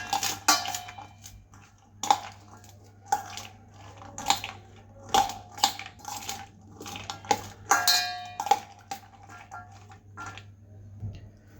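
Peas and chickpeas are mixed in a bowl for Bengali chana masala, a spoon scraping and clinking against the bowl in repeated irregular bursts over a low steady hum, close and fairly loud.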